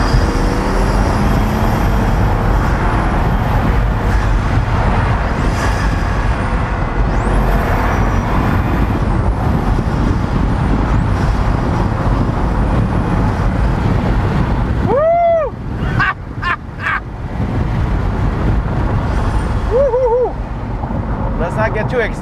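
A Pagani Huayra supercar drives along with steady engine and road noise, rumbling and wind-buffeted near the microphone; a pause midway brings brief rising engine notes before the drone resumes, with voices nearby.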